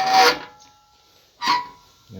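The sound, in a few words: filing a saw blade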